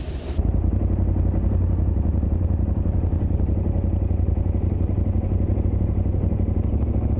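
A KTM 1290 Super Adventure motorcycle rides off a ferry, its engine droning loud and steady up close, with clattering over the ramp and wind rumble throughout.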